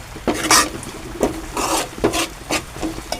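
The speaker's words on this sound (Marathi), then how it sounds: "आपण कांदा परतून घेऊ." Onions being sautéed in a pan, stirred with a utensil that scrapes and clinks against the pan in irregular strokes, fairly loud and close over a soft sizzle.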